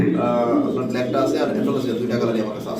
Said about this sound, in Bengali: এটা হচ্ছে হাসিয়ান ব্ল্যাক কালারের পোটার কবুতর